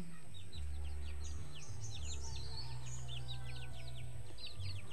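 Pet chicks chirping in a vegetable garden of bitter gourd and string beans, a steady run of high, quick peeps over a low rumbling background, no talk.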